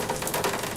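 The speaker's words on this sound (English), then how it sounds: "I've got a rain loop in the background" A recorded rain loop hisses in a steady, dense patter of drops throughout, fairly loud and even, with no voices over it.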